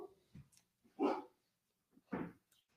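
Dogs bark indoors, two sharp barks a second apart with small yips and snuffles between them, heard at moderate distance in a quiet room.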